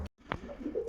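A pigeon coos softly inside a pigeon loft, a short low throaty call close by, with a couple of brief sharp noises around it.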